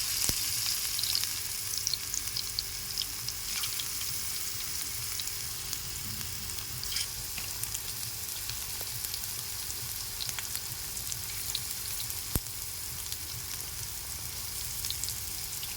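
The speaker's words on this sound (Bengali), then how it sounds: "একদম লাল লাল ভাজা হবে পকোড়ি" Small mung dal pakoras fry in mustard oil, a soft, continuous sizzle with light bubbling and occasional faint clicks of utensils, fairly quiet and steady throughout with no speech.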